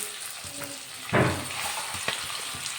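Mashed sweet potato roasts in ghee for a sweet sheera, a low crackling sizzle with a burst of stirring and spatula scrapes partway through, heard up close without voices.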